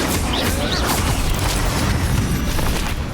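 Bombarda explosion spell cast in Hogwarts Legacy down in the catacombs, a dense booming blast with crumbling debris that fills the whole stretch at high volume, with no speech over it.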